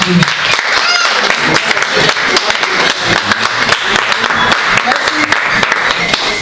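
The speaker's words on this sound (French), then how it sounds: "allez applaudir nos invités qui se sont déplacés ce soir" Guests at a Paris anniversary gathering of a women's peace group are greeted with steady applause from an indoor crowd, clapping dense and continuous throughout with some voices mixed in.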